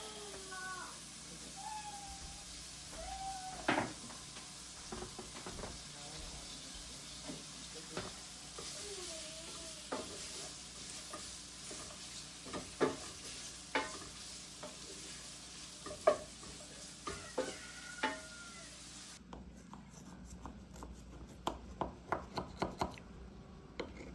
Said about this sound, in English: So before I put my kielbasa in with my potatoes, I like to brown it first.